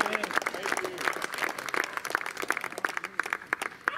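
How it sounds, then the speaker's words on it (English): A church gathering gives a round of applause, with steady, moderately loud clapping from a small crowd lasting several seconds, with faint voices mixed in. "I would just like to give another round of applause to the worship leader"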